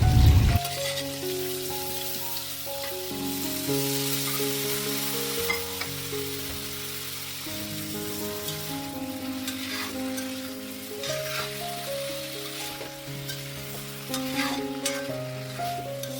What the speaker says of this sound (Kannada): ಇವಾಗ ಬೆಣ್ಣೆ ಜೊತೆ ಪನ್ನೀರ್ನೆಲ್ಲ ಸ್ವಲ್ಪ ಒಂದು 5 ನಿಮಿಷ ಫ್ರೈ ಮಾಡ್ಕೊಂಡ್ಮೇಲೆ